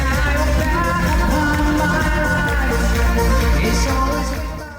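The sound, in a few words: live concert music played from phone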